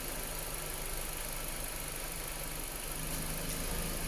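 A 2014 Nissan Juke engine idles steadily at close range with the AC compressor running, a constant hum with a faint mechanical whir underneath.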